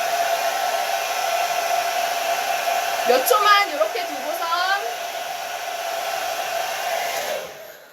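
A hair dryer blows steadily and loudly throughout, a constant whooshing drone while someone talks briefly over it, the airflow fading out at the very end, during a session styling hair with an Akiz volume curling iron.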